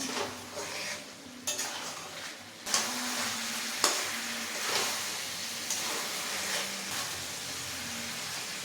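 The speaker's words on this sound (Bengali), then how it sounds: "হাফ ক্যাপসিকাম দিয়ে দিলাম। আরও কিছুক্ষণ কষিয়ে নেব।" Chicken and half a capsicum being stir-fried in a kosha curry, with steady sizzling under repeated spoon scrapes and clinks against the pan, alone and close.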